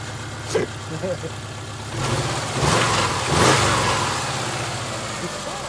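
A 2000 Subaru Outback engine runs just after an alternator replacement, idling with a couple of light revs, close and steady beneath people talking.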